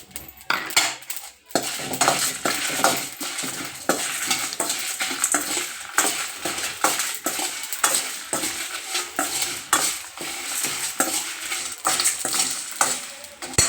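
Dried red chillies, five of them, added to hot oil with cinnamon and cloves for gongura mutton, sizzling and frying steadily while a utensil stirs and scrapes the pan, fairly close and continuous with no talk.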